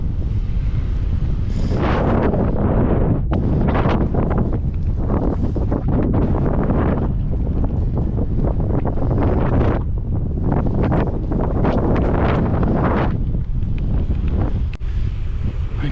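Heavy wind roars and buffets across the microphone on a ride back toward town near Tumby Bay, South Australia, loud and continuous with rushing gusts and no clear voices.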